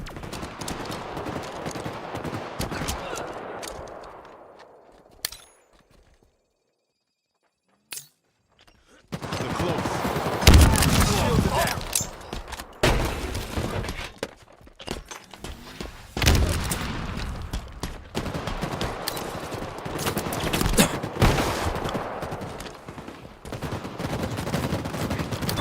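Rapid gunfire rattles in a Halo Infinite match, dense bursts of automatic shots and sharp booms close up, pausing briefly before resuming in heavy volleys, with game voice lines mixed in.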